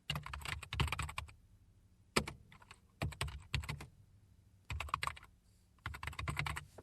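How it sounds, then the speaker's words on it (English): Quick bursts of clicking keystrokes on a computer keyboard while entering text in Adobe Contribute CS3, close up, arriving in several clustered runs separated by short pauses. "and you start typing."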